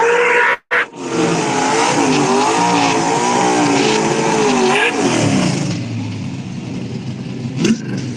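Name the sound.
race car accelerating down a no prep drag race track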